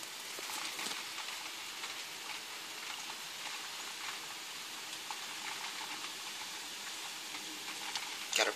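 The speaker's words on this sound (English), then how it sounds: "it's been raining for like days straight" Steady rain patters softly and continuously, a dense hiss of drops on a surface with no voices.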